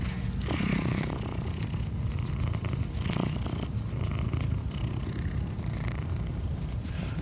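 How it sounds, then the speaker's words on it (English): A gray tabby cat purrs steadily and close up, a continuous low rumbling throb with no voices, lasting several seconds. "a purring cat is hard to resist"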